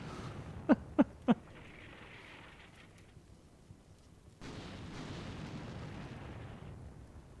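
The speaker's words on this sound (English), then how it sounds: "you can see that artillery coming down on this building complex over here" Artillery barrage striking a building complex in Combat Mission, three sharp close impacts in quick succession followed by quieter distant rumbling and a swelling wash of battle noise.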